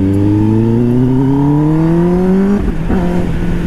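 A Kawasaki ZX10R motorcycle engine revs up in a long rising pull, then drops off with a couple of sharp popping backfires near the end, loud and close.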